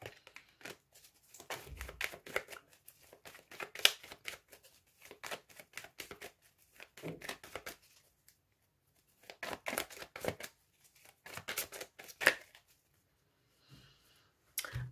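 Lenormand oracle cards shuffled by hand for a reading, heard as several separate bursts of soft riffling and flicking with quiet pauses between them, close by.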